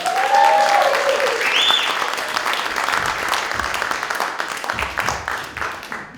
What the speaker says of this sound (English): Give that same wonderful, skinny Merc welcome to Zach Elliott